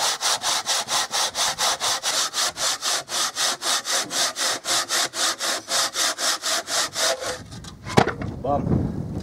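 An ordinary handsaw cutting through a block, about thirty even back-and-forth rasping strokes in a quick steady rhythm, close and loud, ending with a thud and clatter as the piece drops off.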